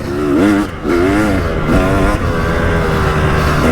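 A KTM 300 EXC two-stroke dirt bike fitted with an FMF silencer revving hard close by, its pitch rising and falling through several sharp blips before settling into a loud sustained high idle.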